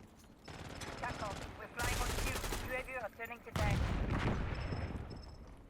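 A PP-919 submachine gun fires in Black Ops 6 in rapid automatic bursts, loud and close, separated by short gaps, with someone talking over the shooting.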